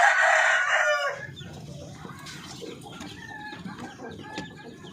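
A rooster crows loudly and close at the start among native Filipino chickens, one long call lasting about a second, followed by softer clucking and scattered bird calls across the flock.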